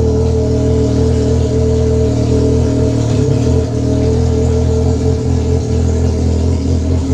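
A loud, close engine of a remapped Yamaha XJ6 motorcycle with a 3-inch stainless steel Atalla exhaust rumbles at steady revs with a deep exhaust note and a few brief crackles, no voices.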